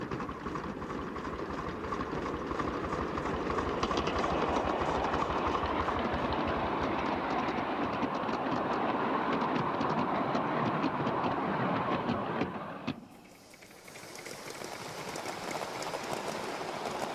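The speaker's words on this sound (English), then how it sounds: "it is more than usually exciting to drive a train at night" A live steam model train runs along its track at night, giving a steady continuous rumble of wheels and rail noise that holds loud for about twelve seconds, then drops sharply before picking up again.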